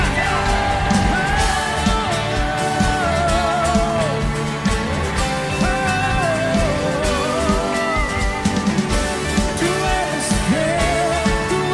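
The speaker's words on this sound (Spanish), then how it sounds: "ayúdame con sus palmas y con sus gritos también" A lively church congregation shouts, whoops and cheers continuously, with voices and music-like tones layered over a dense, rhythmic clapping din during a worship song.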